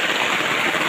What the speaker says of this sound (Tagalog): Dapat may black trapal tayo para kung mag-init at mag-ulan ay yan, malakas ang ulan.